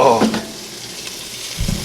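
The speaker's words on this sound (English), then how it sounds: "sizzling." Soft sizzling of French fries frying in a pan, with a brief louder clatter at the start and a low thump near the end.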